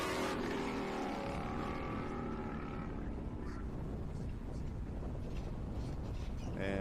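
Loud, continuous roar of off-road racing engines revving and droning close by at a race restart, with a rising surge of throttle toward the end.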